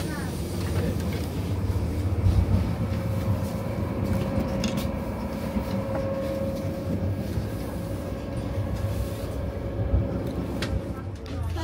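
Swiss train riding from Visp to Zurich, heard from inside the carriage as a steady low rumble and rolling hum, with muffled voices talking throughout.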